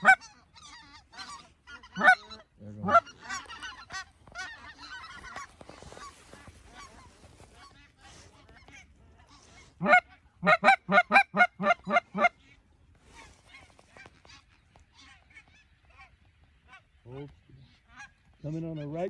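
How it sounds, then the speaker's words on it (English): Geese honk at daybreak on an Oklahoma goose hunt, scattered calls near and far over a quiet field, with a dense burst of rapid loud honks midway and a few faint distant calls afterward. "Daylight comes, we can hear geese. It just sounds like thousands of birds everywhere."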